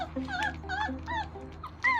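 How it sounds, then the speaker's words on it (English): A puppy whimpers and yips in a series of high, wavering whines while it eats, close and fairly quiet, with no human voices. "Never seen a dog talk and eat at the same time."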